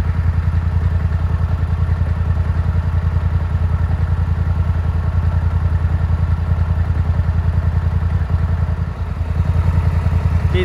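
Polaris ATV engine idling while submerged in a creek, a steady low rapid putter held at an even, loud, close level throughout.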